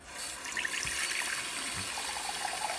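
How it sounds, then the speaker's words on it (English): Water pours steadily into a large pot of homemade chicken soup, a continuous close splashing and gurgling stream that runs the whole time without talk. "And then I'm gonna put some more water."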